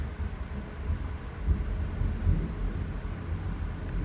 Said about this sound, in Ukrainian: опять грім, я опять прокидаюся і слухаю, що то за грім